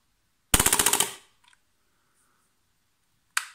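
An AAP-01 airsoft gas pistol, low on gas, fires a rapid burst of about eight sharp cracks in under a second, followed by faint clicks and one more isolated shot near the end.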